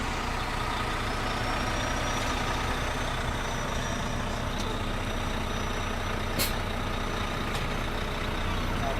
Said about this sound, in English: I'll just use the tractor parking brake to release them.